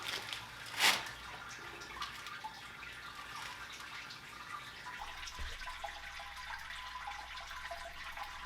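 Wort drains during brewing of a Belgian witbier, a faint steady trickle of liquid with a soft splash early on and a low hum in the background.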